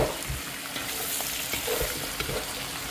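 Eggplant and green chilies fry in a pan with a continuous, close sizzle, broken by light stirring scrapes and soft clatters.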